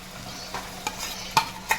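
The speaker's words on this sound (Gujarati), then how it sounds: "અને ડુંગળી ટમેટાનો વઘાર પણ કરી દીધો આપણે." Onion and tomato tempering sizzles in a pan for a home-cooked dal, a soft continuous hiss under several sharp clicks and scrapes from stirring.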